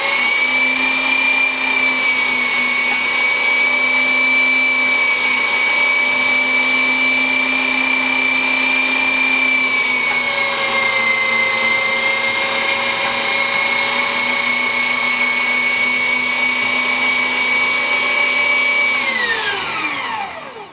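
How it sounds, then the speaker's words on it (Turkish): A kitchen meat grinder mincing kashar cheese runs with a loud, steady motor whine, its pitch dipping slightly midway, then spinning down at the end; close and continuous with no voices. "Aynı şekilde kaşar peynirlerimi de kıyma makinesinden geçiriyorum."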